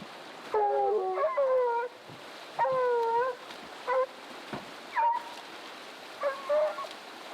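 Several hunting dogs howl and bay on a track up a mountain in Canada, drawn-out, wavering calls from some distance, coming in repeated bursts with short pauses between them.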